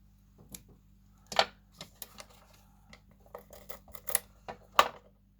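Scissors trimming a small paper sentiment piece for a stamped card, a string of quiet, close, crisp snips with short pauses between them.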